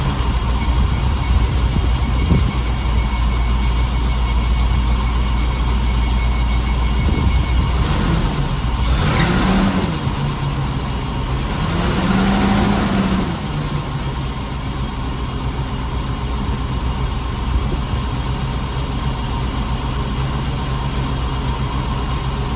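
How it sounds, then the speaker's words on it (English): A car engine with D-Jetronic fuel injection, its air filter and temperature sensors removed, runs at a steady, even idle, a continuous low rumble with no talking. "we're going to try start it up now and see how it's running"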